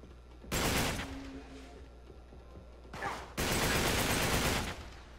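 Gunfire in the video game Uncharted 3, set in a shipyard: two loud bursts of rapid shots, the first lasting about half a second, then a brief pop and a longer sustained volley, separated by quieter game ambience.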